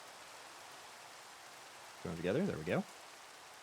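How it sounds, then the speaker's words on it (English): Steady rain falling in the Minecraft Sevtech Ages modpack, a constant soft hiss throughout, with someone talking briefly over it near the end. "How lovely, a bit of rain."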